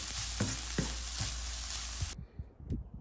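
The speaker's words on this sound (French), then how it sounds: "Donc je mélange bien l'ensemble, puis je vais couper le feu." Leeks sautéed with garam masala sizzle steadily in a pan while a spoon scrapes and stirs in soft, regular knocks; the hiss cuts out abruptly as the heat goes off, leaving a few quiet clinks.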